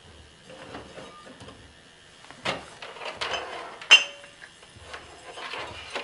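Light clinks and rattles come from a benzene sample container being picked up in a quiet room. The sounds are soft and sparse, with one sharper clink near the end.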